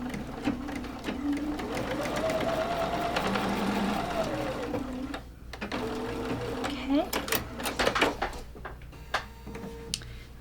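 A sewing machine stitches down a quilt block seam in a long, even mechanical run, then slows into shorter stop-and-start bursts with clicks as the fabric is handled, while a person talks over it.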